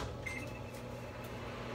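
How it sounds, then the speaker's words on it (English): A microwave oven hums steadily as it warms milk for hot chocolate, a low, constant drone heard faintly and evenly throughout, with a small electronic beep near the start and no talk. "microwave, put it on 1 minute"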